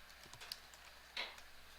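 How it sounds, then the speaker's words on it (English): Soft keystrokes on a computer keyboard tap out a short message at close range, a few light clicks with one slightly louder press near the middle, heard alone in a quiet room. "Just type in your message"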